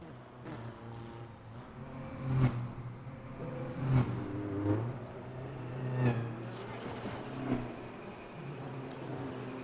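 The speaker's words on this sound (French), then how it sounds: "Isota Faschini, Typo 6. On accélère un petit peu la sortie." Isotta Fraschini Tipo 6 race car accelerating in Le Mans Ultimate, its engine droning steadily with several rising surges in pitch, loud and close with no talking.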